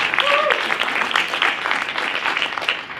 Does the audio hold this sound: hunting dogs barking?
no